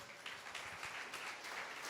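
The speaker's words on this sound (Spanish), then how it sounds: "Den un aplauso a las diaconisas" A church congregation applauds, a short, even wash of many hands clapping at moderate distance, steady and fairly quiet throughout.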